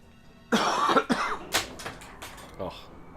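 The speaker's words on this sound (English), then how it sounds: "Coughed my glasses off my head" A single harsh cough followed by a few throat-clearing bursts, close and loud, breaking into a quiet room during a livestream.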